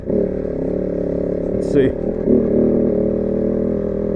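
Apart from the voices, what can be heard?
Kove 450 Rally motorcycle riding uphill off-road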